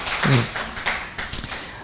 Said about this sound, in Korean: 우리에게 말로 다 할 수 없는 그 풍성하신 은혜를 주신 하나님께 우리 한번 이렇게 감사의 박수를 한번 올려드렸으면 좋겠습니다.